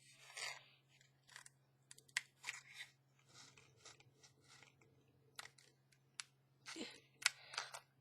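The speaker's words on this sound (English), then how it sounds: "let's cut this plastic off" Scissors snip through slippery plastic wrapping on a craft journal card project, a series of close, sharp crunchy cuts and clicks at irregular intervals over a low steady hum.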